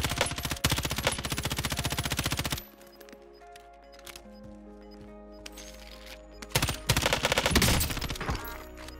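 Automatic gunfire in Call of Duty: Black Ops Cold War Warzone fires in a long rapid burst, then thins to scattered distant shots. A second loud, fast burst follows near the end.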